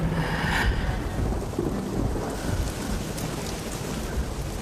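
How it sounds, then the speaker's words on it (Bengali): Heavy rain pours down steadily with dense, close hiss, while low rolling thunder rumbles underneath throughout the short stretch. "দেখো বৃষ্টি এসেছে"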